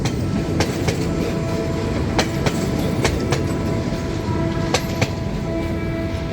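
A train rumbles past up close at a level crossing on Rama 6 in Bangkok, wheels clacking rhythmically over the rails, with a faint sustained tone from the crossing.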